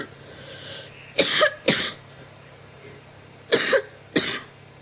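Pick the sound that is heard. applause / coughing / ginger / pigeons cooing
coughing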